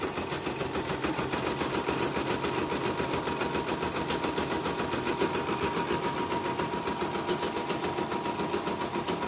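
A CNY E960 embroidery machine runs after repair of its hoop bolt, motor and motor fan, giving a steady, dense mechanical chatter of rapid rhythmic needle strokes at close range for the whole stretch, with no voices.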